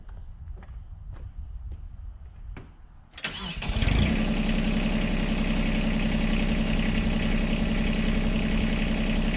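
A tractor engine cranks and starts after a few faint clicks, catching abruptly and then settling into a loud, steady idle rumble close by.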